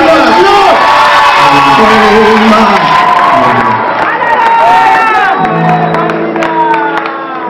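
A concert crowd at a worship event cheers and acclaims loudly, a sustained wash of shouting and whooping voices with some singing and speech woven through over several seconds.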